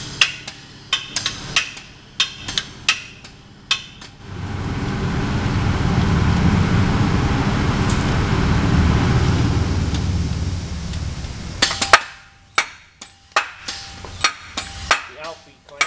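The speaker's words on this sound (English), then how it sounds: "Number 8 is the fence in-feed clamp." A fence in-feed clamp on an MFSR machine cycles in test mode, giving sharp clanks and knocks at the start and end with a sustained hiss or hydraulic whoosh in between, loud and close, with no talk.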